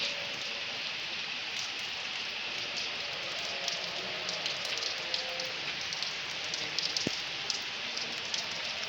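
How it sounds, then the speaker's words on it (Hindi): Steady rain splashes and patters on hard surfaces nearby in front of a canteen, a constant hiss with scattered louder drops. "मैं बारिश का मंज़र रिकॉर्ड करता हूँ। ये सामने कैंटीन है और ये बारिश के छींटे हैं।"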